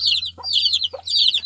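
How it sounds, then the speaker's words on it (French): Young chicks and hens on a small farm flock cluck and peep close by, high chirps repeating in quick bursts over a low steady hum. "là pour l'instant c'est les plus petits poussins."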